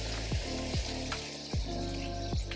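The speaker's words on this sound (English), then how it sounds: "while that sauce is bubbling away on the stove" Tomato sauce for shakshuka bubbling on a stovetop, with a run of soft thick gloopy bubble pops at a slow, uneven pace against a low steady hiss, close up and without voices.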